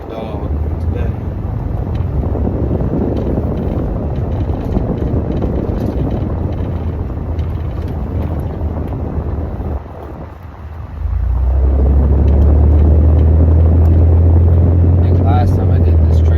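Steady low road rumble and engine drone inside a car or truck on a hot day, continuous throughout, deepening and growing louder near the end as the vehicle speeds up.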